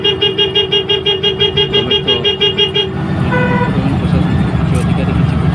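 A bus pressure horn blares in a rapid pulsing, musical pattern for about three seconds at a bus stand, then gives way to road traffic noise and a shorter tooting horn, with a voice talking over it.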